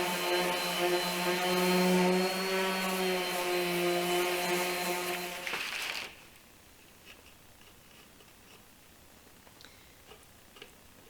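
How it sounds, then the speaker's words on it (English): A power sander smooths a wooden farmhouse tabletop with a steady, tonal motor whine for about five seconds. It then cuts off, leaving quiet room tone with faint small knocks. "Giving one last sand on the tabletop before I stain it."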